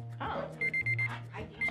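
Timer alarm beeping in a rapid string of short electronic tones, several quick beeps in a row, close by and partly overlapping chatter and laughter in the room.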